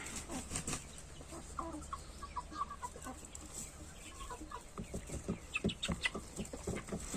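Green-legged partridge chickens and a rooster cluck softly and intermittently at a moderate distance in an outdoor run, with scattered pecking and scratching sounds amid faint outdoor background.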